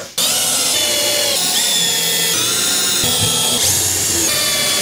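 Power drill driving screws during a bus-to-tiny-house bathroom build, a loud continuous motor whine that holds steady with small pitch shifts for about five seconds, alone without talk.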